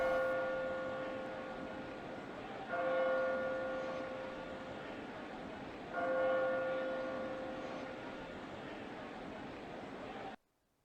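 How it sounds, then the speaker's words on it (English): Church-like bell tolls in the video game Labyrinth of Refrain, three loud strikes roughly three seconds apart, each ringing out and slowly decaying over a steady ambient background, ending abruptly. "Oh, there's that awful bell."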